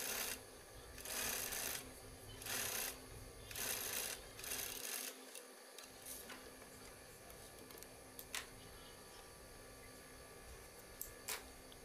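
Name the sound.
sewing machine stitching a bridesmaid gown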